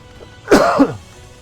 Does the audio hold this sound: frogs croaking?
no